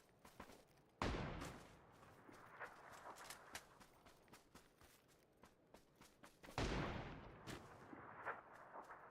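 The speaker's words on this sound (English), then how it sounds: "You heard plenty of shots." Gunfire in PUBG on console: two sharp loud shots stand out among scattered quieter distant pops and clicks, with no talking.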